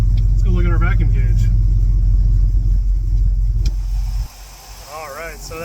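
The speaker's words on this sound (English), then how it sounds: "And we're idling." A 1972 Ford Super Pickup F750 truck engine idling with a loud, low steady rumble, dropping to a quieter idle near the end while someone talks over it.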